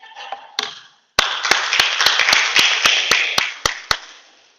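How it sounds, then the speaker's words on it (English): A single person claps their hands in a live talk setting: a roughly even run of about a dozen sharp, close claps with a brief quiet gap before them, ringing in a reverberant room. "I want to clap my hands for you."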